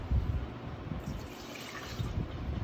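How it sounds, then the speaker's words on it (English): Water pours into a mixing bowl holding yeast and sugar for pizza dough, a steady soft gush of liquid running for a few seconds at close range, with no talking. "You're also going to add in your sugar and your water."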